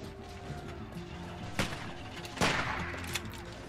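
Gunshots in The Walking Dead video game, episode 3 with bandits: two loud, sharp shots about a second apart over a steady game soundtrack, the second heavier and more resonant.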